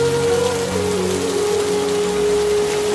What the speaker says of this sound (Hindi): लेकिन बारिश रुकने का नाम नहीं ले रही थी।